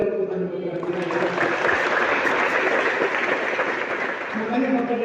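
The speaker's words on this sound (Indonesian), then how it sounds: "Boleh dong tepuk tangan buat Tuhan kita ya." Church congregation applauding during a revival service at GBI Bukit Sion, a dense wash of clapping rising after a second and sustained, with a preacher's voice speaking over it at the start and end.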